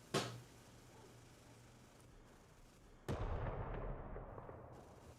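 Naval cannon shots from warships in the Modern Warships video game, a sharp booming report followed about three seconds later by a second heavier blast that rumbles and fades.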